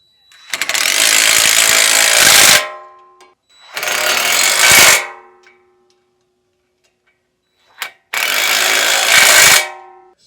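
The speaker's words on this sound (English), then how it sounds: "You'll use a 15mm socket and a 15mm wrench." Hardware on a Kawasaki Ridge UTV winch mount plate being tightened with a 15mm socket ratchet and 15mm wrench, three loud, close bursts of rapid mechanical clicking separated by pauses, plus one brief click between them.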